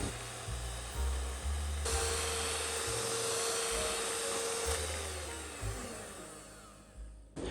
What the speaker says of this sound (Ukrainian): Всипаю невеличкими частинами та постійно збиваю міксером.